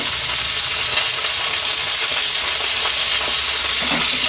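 Bommidala fish frying in oil under a covered pan, a loud, dense, continuous hissing sizzle heard close up and steady throughout.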